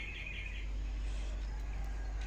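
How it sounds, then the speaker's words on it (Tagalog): Birds in a home garden chirp faintly over a steady low background hum, with a brighter cluster of calls early on and no talking. "Dami kasing ibon dito sa ating garden."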